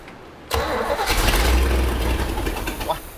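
An old car engine catches and starts after sitting unused for forty years, bursting from near silence into a loud, steady rumbling idle that runs on continuously, up close.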